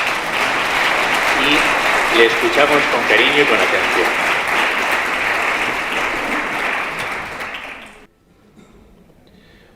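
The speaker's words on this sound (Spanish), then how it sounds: "damos un aplauso de bienvenida" Audience in a conference hall applauds to welcome a bishop speaking on catechesis, sustained clapping under a voice that fades and cuts off sharply near the end, leaving quiet.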